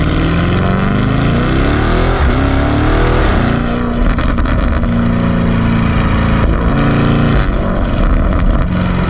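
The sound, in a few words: Lamborghini Urus 4-litre twin-turbo V8 engine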